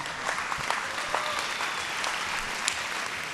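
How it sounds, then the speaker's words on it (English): A live audience at a televised singing competition applauds the other contestants, sustained steady clapping with scattered sharper claps throughout, no talk over it. "could I please have a big, massive round of applause for the other contestants who performed on tonight's show"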